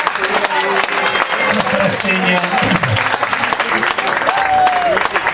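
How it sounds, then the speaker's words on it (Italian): A crowd at the Italian Blues River festival in Brivio applauds steadily, with many hands clapping throughout while someone speaks over it into a microphone. "Un bel applauso"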